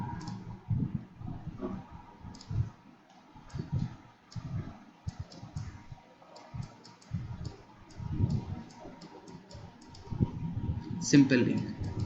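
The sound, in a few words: typing on computer keyboard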